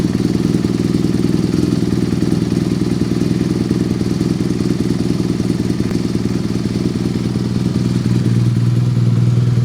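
A BMW R nineT motorcycle engine idles steadily and loudly up close, a constant low rumble with light mechanical clatter, rising slightly near the end.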